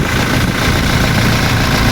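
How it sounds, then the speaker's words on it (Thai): A 2019 Toyota Revo 2.4 diesel pickup with a manual gearbox and aluminium box body idles steadily up close, a loud, even, rumbling drone with no variation and no voices. "เนี่ยเครื่องยนต์เดินนิ่งๆเลย"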